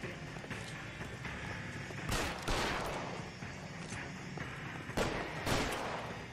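Gunfire in the L.A. Noire video game: several sharp shots ring out in two pairs over a steady background bed of game ambience, with no talking.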